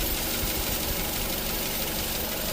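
2009 Nissan Tiida engine with a misfire and rough idle, a steady close, loud mechanical idling drone with a slightly uneven pulse and no talk.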